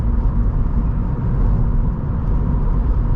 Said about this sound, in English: There is a fair bit of road noise, but that's expected for a BRZ.